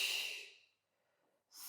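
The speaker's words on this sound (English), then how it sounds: "exhale" A long, soft exhale during a Pilates upper-body exercise on a springboard, breathy and close, fading out over about half a second before a brief silence and a new breath.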